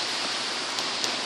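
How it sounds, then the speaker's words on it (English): Rain falls steadily during a thunderstorm in New York City, a dense, even hiss of drops on surfaces with a few faint ticks near the end. "It's already raining"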